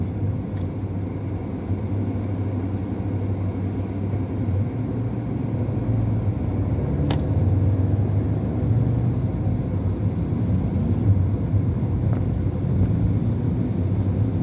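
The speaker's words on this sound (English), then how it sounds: "We're about to merge onto the Auckland motorway northern section, but we're going to be heading south." A car merging onto the northern section of the Auckland motorway, heading south: steady, loud road and engine rumble with tyre roar that holds constant throughout, no voices.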